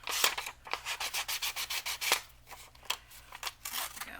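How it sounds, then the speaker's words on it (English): Sanding the trimmed edges of a closed mini composition book with dried glue, a series of quick rhythmic rasping strokes, close and fairly soft, with a short spoken remark at the end. "You can sand it with the book closed as long as the glue is dry."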